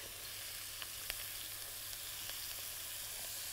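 Freekeh tipped into a pan of frying onions gives a steady, close hiss of sizzling that runs right through, with a few small crackles and pops on top and no talking.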